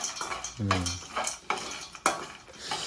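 Peanuts being dry-roasted for homemade peanut butter are stirred in a pan: close rattling and scraping strokes against the metal with a soft sizzle beneath and a brief voice-like sound early on.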